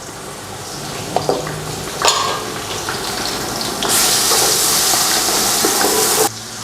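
Onions browned in oil sizzle steadily in a pan as garlic ginger paste is added, with a sudden louder hiss midway and a few clinks and stirring knocks, no talk.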